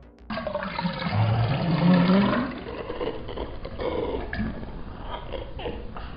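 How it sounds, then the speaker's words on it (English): A watery draining gurgle heard as a face appears in a wall and then sinks away into it, a loud rushing swirl like a flushing toilet that swells early and then settles into a steadier wet churn, alone. "Something I like and find creepy is the water sound the face makes when it appears and disappears, like it's being drained back into the wall."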